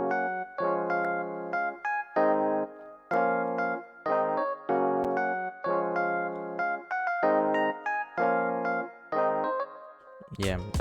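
A synth sound layered with piano plays a looping beat pattern of repeated chord stabs in a steady rhythm, loud and close, ending with a short sweeping tail and no talking over it.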